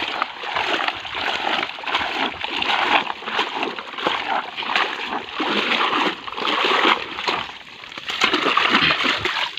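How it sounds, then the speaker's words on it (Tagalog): Tuway clams are washed by hand in water, producing continuous close splashing and sloshing with irregular surges of churned water throughout. "Yan mga kabadyaw, hugasan natin para makitang malinis."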